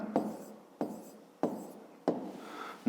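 Four firm pen strokes scratch across paper in an even rhythm, each one a short rasping burst that fades out, close and quiet with no voices.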